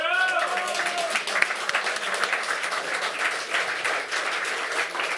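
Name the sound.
audience applause at esports grand final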